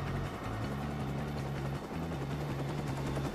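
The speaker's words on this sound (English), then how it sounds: "I just disabled that helicopter." Video game combat audio from Watch Dogs as a helicopter is disabled: a steady droning engine hum with rapid repeated bursts like gunfire over it, continuous and fairly loud.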